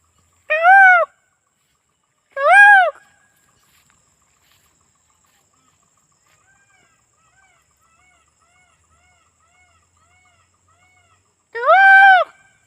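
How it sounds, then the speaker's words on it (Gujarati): Three loud, tonal birdcalls ring out in a quiet village. Two come close together near the start and one arrives much later, with faint insect chirping in the stillness between. "પક્ષી કિલોલ કરી રહ્યા છે"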